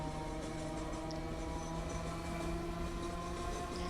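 A train rolls along in a Roblox rail game, modelled on an electric locomotive, giving a quiet, steady mechanical hum with a low drone and soft rhythmic texture, heard alone without talk.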